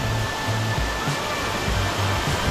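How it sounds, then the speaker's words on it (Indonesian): Saliu waterfall at the foot of Mount Monrolo roars as a loud, steady wash of falling water, constant and close, with no voices over it. "air terjun Saliu"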